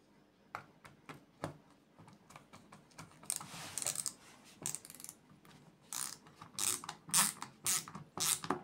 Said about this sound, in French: Et là, je vais mettre la vis.